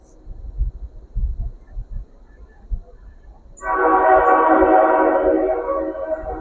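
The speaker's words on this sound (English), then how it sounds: "and that train that's passing." Low thumps and rumble at first, then a loud train horn blares and holds for several seconds as the train passes nearby.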